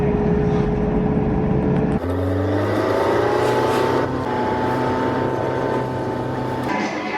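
A car cruises between shops in Sicily, its engine humming steadily from inside the cabin with a shift in pitch partway through and a sustained tonal whine.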